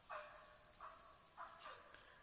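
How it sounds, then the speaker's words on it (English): Wild turkeys gobble in theHunter Classic hunting game, three short rattling gobbles in quick succession, faint and distant over a steady hiss of outdoor ambience. "There's more turkeys coming."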